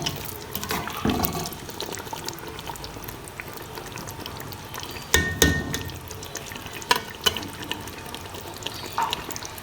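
Achari aloo keema being stirred in a pan, a soft wet sizzling and scraping with a few louder clanks of the spoon against the pan, close and steady.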